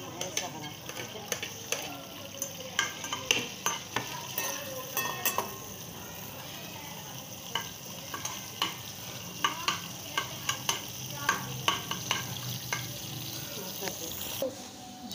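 Onions fry in oil in a pan as a utensil scrapes and stirs with repeated sharp clinks over a steady sizzle, fairly close, with voices talking faintly in places.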